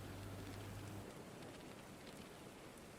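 Steady rain falls as a dense, even hiss that stays constant and fairly loud throughout, with no voices and no distinct drops standing out.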